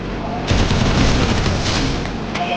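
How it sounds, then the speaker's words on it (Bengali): Gunfire from the mobile battle royale game Garena Free Fire, a dense continuous burst of shots and booms that runs through the whole moment, with some speech-like sound layered in. "এখানে এনিমি একটু ভুল দিকে গলিগুলো ফায়ার করেছে"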